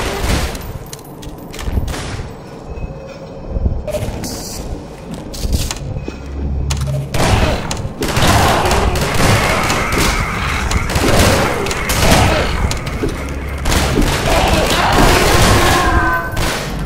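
Gunfire in Garry's Mod rattles in loud, dense volleys with booming impacts and crashes, bursts stacking over one another almost continuously.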